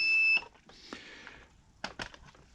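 A multimeter gives a short, clear beep on a breadboard continuity check, followed by faint clicks of the probes being moved around in quiet.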